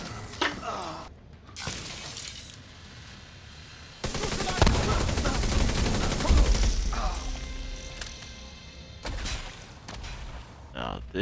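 Gunfire in The Division video game: a dense, sustained volley of shots with shattering impacts, bracketed by shorter bursts, heard with some voice in the mix.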